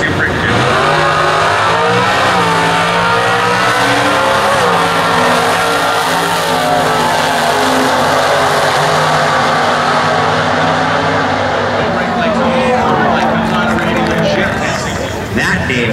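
Loud roaring engines of stock eliminator drag cars launching and accelerating down the strip at the US Nationals, sustained and rising, with an announcer talking over the noise.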